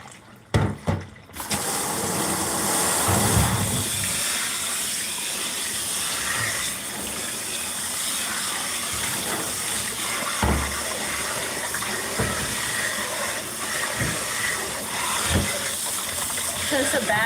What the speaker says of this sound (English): Since the batter is so sticky, I'm just trying to rinse some of it off before I have to wash it.